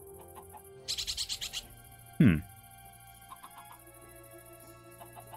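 A freshly hatched prehistoric creature in a Minecraft Jurassic World mod gives a quick series of bird-like clucking chirps, then a single louder squawk, against a quiet background with faint game tones.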